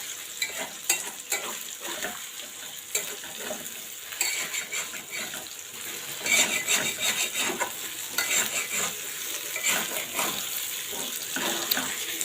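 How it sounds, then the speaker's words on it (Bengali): Beef tripe fries in a pan with a steady sizzle, broken by frequent scraping and stirring strokes, loud and close, with no talking. "এটা এখন আমি হালকা হালকা এর ভিতরে ভেজে নেব এরম করে ভেজে নেব"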